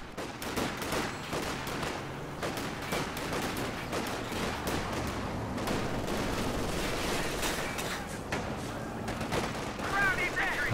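Machine gun fire in Company of Heroes 2: dense bursts of rapid gunshots and scattered booms from a battle in the game, steady and fairly loud, with a voice talking throughout.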